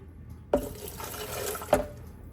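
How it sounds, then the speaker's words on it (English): A cup of water poured into a crock pot of birria, a soft liquid splash and trickle with two sharper splashes, close and fairly quiet with no talk. "You can add more water at this point. So about 1 cup of water."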